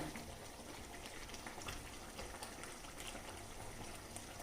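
Tomato rice gravy with ghee boils in a pan, giving a faint, steady bubbling hiss that stays even throughout with no voices.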